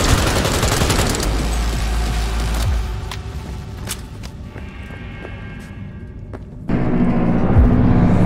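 Gunfire in Cyberpunk 2077 comes in rapid, loud bursts of automatic shots over a heavy rumbling backdrop, then thins to scattered single cracks before another loud surge of firing.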